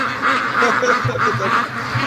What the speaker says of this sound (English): There's about 35 ducks in there.